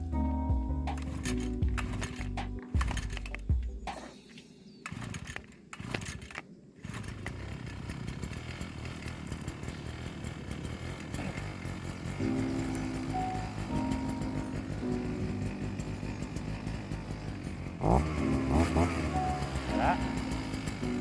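A string trimmer brush cutter for clearing a mountain village plot pulls and sputters through several start attempts, then catches and runs at a steady close buzz, with a voice speaking over the early tries.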